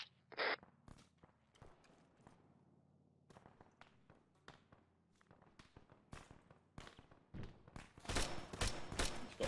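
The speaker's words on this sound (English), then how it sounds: "Machine gun fire coming north." Bursts of machine gun fire in a military video game, mostly sharp, scattered cracks at varying distance, building to a dense, loud volley near the end.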